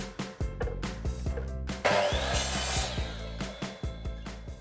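Hand saw cutting through two stacked pieces of wood at once, with a steady rhythm of rasping strokes, close and fairly loud, and a brief burst of brighter, harsher sawing partway through.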